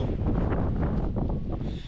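Steady wind buffets the microphone with a low rumbling roar throughout at a canyon trailhead, no other sounds standing out.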